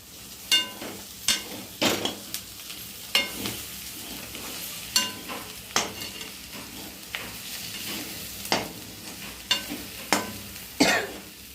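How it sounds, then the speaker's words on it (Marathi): Okra curry (bhindi bhaji) seasoned with coriander powder is stirred in a pan, giving about a dozen sharp, uneven scrapes and clacks of the spoon over a soft sizzle, close and with no talking. "हे बघा हे छान हलवून एकजीव करायचं"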